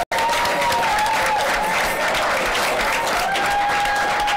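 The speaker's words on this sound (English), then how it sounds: "Could we have a round of applause for me?" A studio audience at a midnight show breaks into applause, dense and loud clapping with some cheering, sustained evenly from start to finish.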